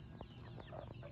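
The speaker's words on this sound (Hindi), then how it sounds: "मुर्गी हैं जो कि हर एज में, यानी कि हर छोटे बच्चे भी हैं बड़े भी हैं।" Chickens of all ages on a farmhouse property in California in the evening, with a few short, soft clucks over a faint background.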